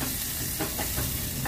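Sliced small onions fry for sambar, giving a close, continuous hiss broken by regular stirring scrapes over a short stretch.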